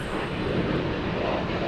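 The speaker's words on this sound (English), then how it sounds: "They're taking off now." Airliner taking off from a runway at Boston's Logan Airport, a broad, steady jet roar heard from a distance for a moment, without talking.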